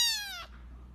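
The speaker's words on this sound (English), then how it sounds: "I feel so sorry for these kitties." A single high, falling kitten meow from a played video, brief and faint, fading into quiet room tone.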